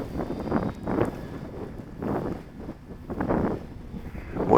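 Wind gusts buffet the microphone outdoors while a 2.1 m Carbon-Z Cub SS radio-controlled plane flies at half throttle on its maiden flight, with rumbling surges rising and falling every second or so.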